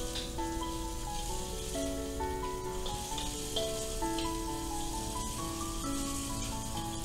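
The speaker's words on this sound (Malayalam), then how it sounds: "ചെറുതായിട്ടൊന്ന് വഴന്നു വന്ന് ഇതിലേക്ക് പച്ചമുളക് ചേർത്ത് വഴറ്റുകയാണ്" Green chillies sautéing in a hot pan for shrimp fried rice give a steady, close sizzle that runs the whole time beneath a melodic background tune.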